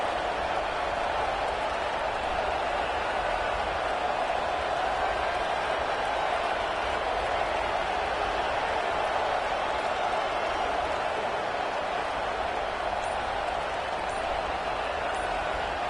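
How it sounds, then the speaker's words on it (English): Stadium crowd noise in a college football video game plays as a steady, dense roar with no breaks, at a moderate level. "the noise from this crowd on 3rd and 4"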